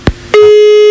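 On a radio call-in line, a short click is followed by a sustained steady electronic telephone tone signalling a disconnected call, loud and continuous to the end.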